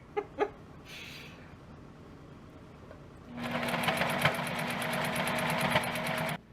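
A sewing machine stitches a ruffle onto an Edwardian summer skirt with insertion lace, running in one steady, rapid, close burst of about three seconds after a few faint handling taps.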